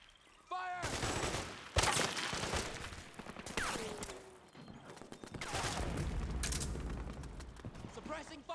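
Sustained bursts of automatic gunfire and single shots in the Metal Gear Solid 4 battle game, loud and dense with brief lulls, mixed with mechanical clatter and shouted voices.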